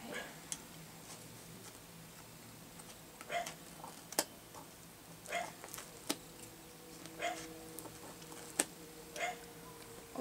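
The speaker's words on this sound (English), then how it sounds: "That dog is barking." A dog barks faintly in the distance in short, scattered bursts spread across a quiet room, alone with no talk over them.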